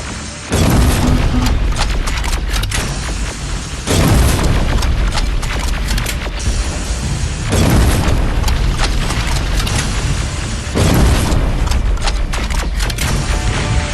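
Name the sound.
explosions as T-47 is destroyed in Terminator: Resistance video game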